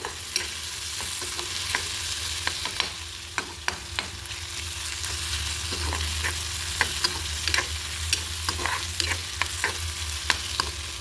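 Onions fry on low gas while a spoon stirs them, a steady soft sizzle beneath sharp intermittent scraping clicks against the pan, close and unaccompanied by talk.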